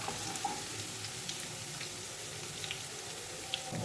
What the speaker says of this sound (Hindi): ऑयल जो है हमारा गर्म हो चुका है। अब इसमें ऐड करेंगे हम चॉप्ड लहसुन।